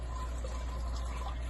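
Hot water poured into a saucepan of lemon meringue pie filling makes a continuous soft, even, close-up rush that lasts the whole moment.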